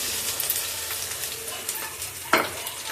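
Curry leaves dropped into hot oil with onion in a home kitchen, a bright continuous sizzle with light stirring and one sharp louder crackle near the end, close by with no voices.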